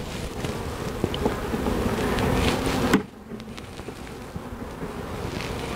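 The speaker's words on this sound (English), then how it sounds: "A couple of bees walking around on it." A steady hum of honey bees crowds a hive frame, dense and close for about three seconds, then the buzzing drops to a thinner, fainter drone with light wind rustle.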